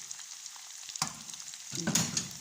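Food frying in a pan is stirred, a soft steady sizzle broken by two louder scraping stirs over a couple of seconds, close by with no talking.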